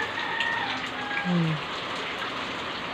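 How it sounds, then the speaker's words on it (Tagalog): Steady, windy typhoon rainfall patters in a broad wash of noise, with faint whistling and a brief low tone in the background, no speech. "So, umuulan na dito, tsaka medyo mahangin na."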